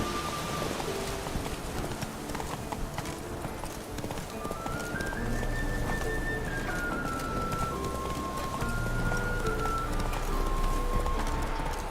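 Roach, the horse in The Witcher 3, gallops with a quick, steady clip-clop of hooves under a soft bed of rain and a gentle game melody.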